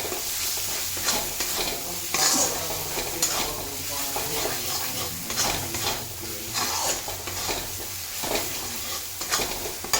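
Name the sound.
spice paste with turmeric and chili being stir-fried in a pan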